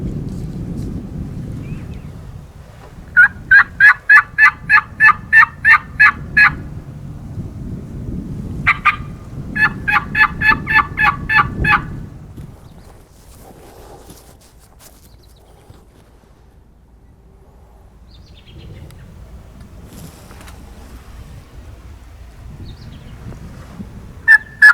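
A wild turkey gobbler on Nebraska public land gobbles in two rattling bursts, with a shorter burst between them, at a moderate distance, over wind noise outdoors, followed by quieter rustling.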